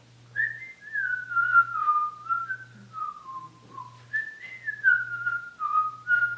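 Someone whistles a wandering, sliding melody, clear and close, with short breaths between phrases and no speech.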